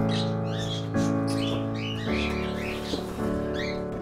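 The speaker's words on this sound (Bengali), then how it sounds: "এই যে কবুতরগুলা" Pigeons in a coop give a run of throaty, tonal calls, several in a row and close, with no voices.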